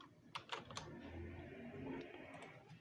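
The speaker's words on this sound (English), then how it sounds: "type your marks here" A few quick computer-keyboard keystrokes tap out in a short burst at the start, then stop under a low room hum and faint background noise.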